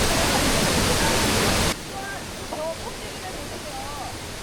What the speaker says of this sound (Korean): 비둘기낭 폭포는 침식작용으로 인해 점점 상류 쪽으로 후퇴하고 있고